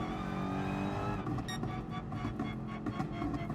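A Mercedes race car in the racing game GT Sport roars along at a steady high engine pitch, shifting tone partway through, with faint tyre noise and no voices.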